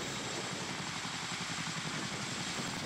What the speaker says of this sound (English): the helicopter started with single logs, which were slowly lifted from previously gathered piles